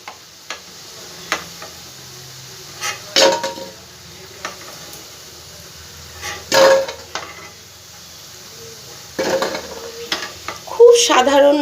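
Vegetarian pieces frying in oil for a simple meatless dish, a low background hiss broken by sporadic clinks and scrapes of a utensil against the pan, with a few louder clatters near the end.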